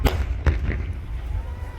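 Gas cylinders on a truck burning at a gas agency in Bareli burst with sharp, booming thuds, two distinct blasts heard at a distance amid a rumbling, crackling roar.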